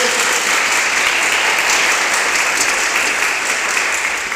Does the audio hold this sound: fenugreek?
no